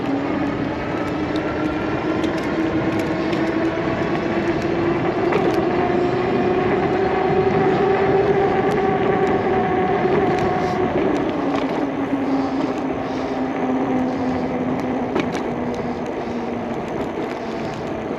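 An Engwe X26 e-bike rides along on off-road tread tires with a quiet rear freewheel, giving a steady, loud rolling drone with a low tire hum that rises and falls in pitch throughout, and no talking.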